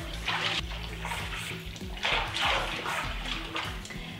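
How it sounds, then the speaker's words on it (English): Water running in a bathtub as coffee scrub is rinsed off, a steady close splashing flow with small dog whimpers and yips heard over it. "I'm gonna rinse this off."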